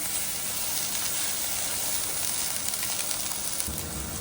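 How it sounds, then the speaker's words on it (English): Peppers, mushrooms and onions frying slowly and caramelising in a pan, giving a continuous close hiss of sizzling with no voices. "Gonna add the peppers. Get them caramelising as well with the mushrooms and the onions."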